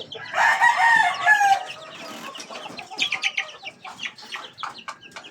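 Spartan Black gamefowl chickens crow loudly and close at the start, then settle into a series of clucks and short calls.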